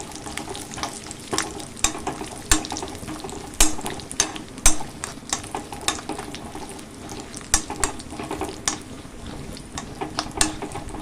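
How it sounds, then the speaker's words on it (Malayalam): Ingredients for parippu pradhaman payasam fry in a pan, a steady close sizzle under frequent clinks and scrapes of a stirring spoon against the metal. "ജസ്റ്റ് ഒന്ന് ഫ്രൈ ചെയ്യാം"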